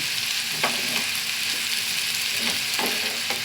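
Spices and food fry in oil in a pan with a steady sizzling hiss, broken by a few soft scrapes as the mixture is stirred; close and continuous, with no talking.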